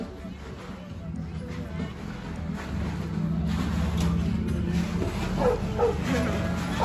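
Dogs bark, yip and whimper at a dog bar, with the dog sounds mixed into steady crowd babble and nearby talking voices throughout.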